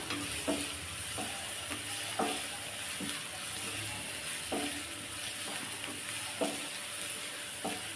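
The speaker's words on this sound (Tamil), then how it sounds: "நல்லா வெங்காயத்தை வதக்கி விட்டுக்கலாம்" Onions sautéing in a pan for egg masala: a steady sizzle of frying with periodic scraping stirs of a spoon at roughly regular intervals, close and moderately loud, with no talking.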